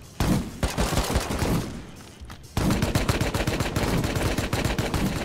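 Rapid bursts of gunfire in the game Rust during a base raid, loud and dense, with a brief lull before the shooting resumes steadily.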